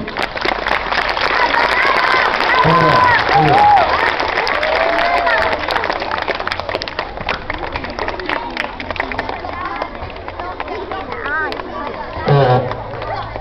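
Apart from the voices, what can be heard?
audience applause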